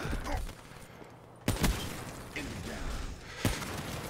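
Call of Duty Black Ops 3 gunfire in a sniper match: two sharp, loud shots about two seconds apart, over a steady bed of game noise.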